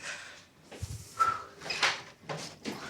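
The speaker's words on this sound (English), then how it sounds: "let me get the door for you" A door in a medical clinic opening, heard as a few soft knocks, clunks and rattles of the handle and latch, fairly quiet and close, with no talk.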